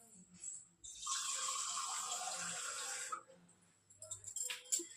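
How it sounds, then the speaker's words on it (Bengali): Water pours from a tap into a mug of sugar for syrup, a steady hissing splash lasting about two seconds close by, followed by faint clinks and soft handling sounds. "জল দিয়ে দিলাম"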